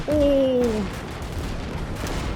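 Gunfire in the Winds of Iron: 1920+ mod battle: a loud opening blast with a descending whistling tone, then a lower rumbling aftermath of scattered distant shots and battlefield noise.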